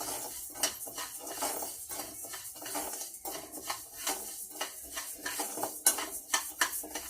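Ingredients are stirred in a pan over the stove for an energy snack made with jaggery, with a spoon repeatedly scraping and clinking against the metal in an uneven, close-up rhythm.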